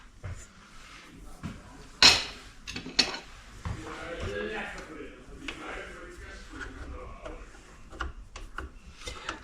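Biscuit dough being mixed by hand in a bowl: soft squishing and rubbing with sharp clinks and knocks against the dish, close up, while a person talks over it.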